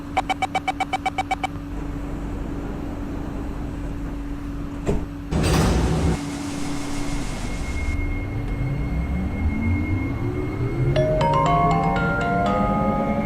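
Doors closing on an Airport Express metro train at a station platform: a rapid series of warning chimes, a sharp loud burst as the doors slide shut, then the motor whine rising as the train pulls away.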